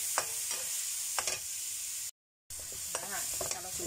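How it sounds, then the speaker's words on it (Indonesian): Long beans stir-fried in a pan, with steady hissing sizzle and intermittent scraping stirring strokes, close and continuous. "Dan masukkan kacang panjangnya ya, kita gongseng ya."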